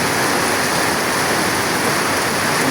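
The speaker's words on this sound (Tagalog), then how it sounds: "Buhos yan sa kapitbahay o. Downspout nila o." Heavy rain pours from a neighbor's downspout in a constant, dense rushing hiss of falling water, loud and steady throughout with no break.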